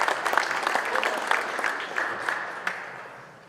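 Seminar attendees at the Wausau Musky Expo clap for a catch-and-release musky fishing talk in a moderate burst that gradually tapers off.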